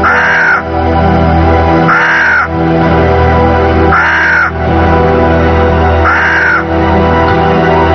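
A crow caws in four loud, harsh bursts spaced about two seconds apart, close and clear over a steady low background hum.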